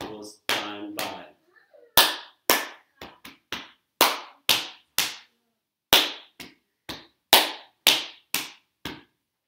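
Body percussion in a rhythmic 15-count pattern: sharp hand claps alternating with chest and leg slaps, each hit crisp and close, in short clustered bursts separated by silence, with a brief voice at the very start.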